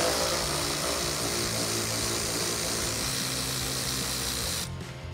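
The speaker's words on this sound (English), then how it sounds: "Grab that 10mm socket and get this removed." A power tool with a 10mm socket spins out bolts from the wheel well liner of a Jeep Gladiator JT, a steady loud whirring hum that runs continuously and then cuts off near the end.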